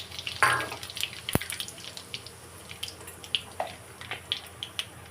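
Whole chillies and cumin seeds fry in hot oil, giving soft crackles and scattered little spits, with one sharp clatter near the start.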